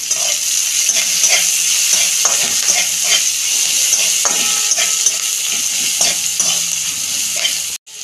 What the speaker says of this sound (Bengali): ভেজে নেবো 2 মিনিট মতো ভালো করে। অল্প নুন দিয়ে দিচ্ছি পেঁয়াজের মধ্যে।